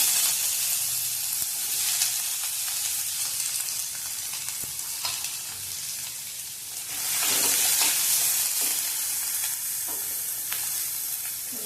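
Onion fries in oil in a pan with a close, steady hiss of sizzling, swelling louder for a few seconds partway through. Occasional stirring noises come through, and no one speaks.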